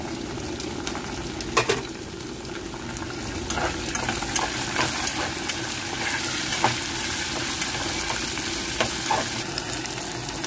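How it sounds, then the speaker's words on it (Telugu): Green chillies fry in hot oil with tempering spices, giving a steady, close sizzle and crackle with scattered sharper pops and no talking. "పచ్చిమిర్చి కూడా వేగినాయి కదండి."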